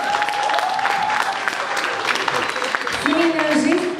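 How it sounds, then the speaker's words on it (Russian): Wedding guests applauding at a civil ceremony, steady dense clapping throughout with a voice speaking over it. "вы видели ваши громкие аплодисменты"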